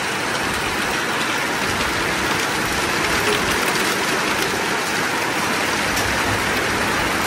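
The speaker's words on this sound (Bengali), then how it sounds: "এই যে বৃষ্টি শুরু হয়ে গেছে, ভালো হয়েছে।" Steady rain pours down continuously near a home kitchen area with plants nearby, a dense even hiss with no pauses and no voices.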